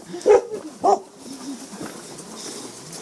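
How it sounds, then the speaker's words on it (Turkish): Two sharp barks close by in quick succession from dogs following walkers through densely vegetated valley countryside, followed by quieter background noise. "Peşimize köpekler takıldı."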